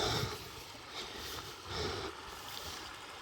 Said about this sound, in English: That creek you hear is the water coming from the lake down to the lake I was just at.